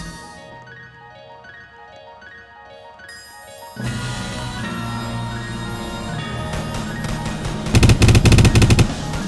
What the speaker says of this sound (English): Really, you think it's a good idea to shoot at me?